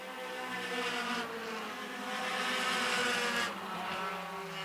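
Two race cars run side by side on an oval track, their engines a sustained buzzing drone that swells and fades as they pass at moderate distance, with no voices.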